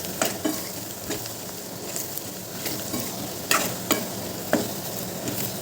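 Stuffed okra curry is mixed in a hot pan, giving a low steady frying hiss and intermittent scraping strokes of a spoon, several sharper scrapes near the end, close and moderately quiet.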